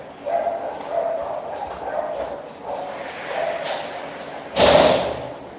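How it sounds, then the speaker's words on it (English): A house door in Merida, Yucatan, Mexico being closed, ending in a single loud thud after several softer bumps and faint dog-like barks in the background, moderately close. "Hold on, let me close the door for a second."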